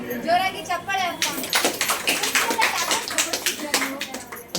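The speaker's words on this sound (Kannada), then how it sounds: "ಜೋರಾಗಿ ಚಪ್ಪಾಳೆ ಅಪ್ಪ." Several people clap loudly and quickly for a few seconds after a short stretch of speech, with voices mixed in with the claps.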